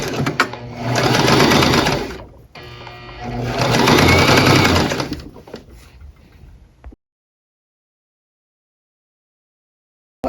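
A sewing machine stitches the bottom hem of a peplum top. It runs in two loud, steady bursts with a short pause between them, winds down, and then goes silent.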